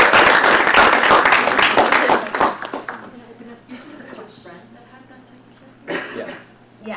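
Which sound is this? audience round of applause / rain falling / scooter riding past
audience round of applause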